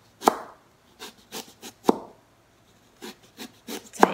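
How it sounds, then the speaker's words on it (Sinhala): A knife chops kohila (Lasia spinosa) root on a board in a series of crisp, separate cuts, some sharper and louder than others, spaced irregularly with short pauses, close up and with no talking. "මම ඒ වගේම පොඩි කොහිලාල කෑල්ලක් තිබ්බා, ඔයගොල්ලන්ට කපන හැටි පෙන්වන්න"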